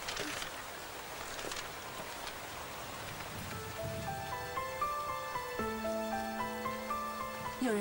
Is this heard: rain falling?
yes